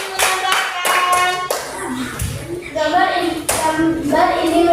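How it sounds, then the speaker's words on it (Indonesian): Classroom clapping for a student group, several short bursts of many hands clapping in a row, with children's voices murmuring in between. "Tepuk tangan juga untuk kelompok B"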